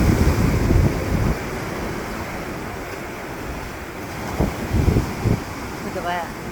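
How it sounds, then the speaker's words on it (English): Ocean waves about three feet tall break and wash onto a beach, a broad hiss of surf mixed with gusty wind buffeting the microphone, and a brief voice near the end. "these waves got to be every bit about 3 foot tall"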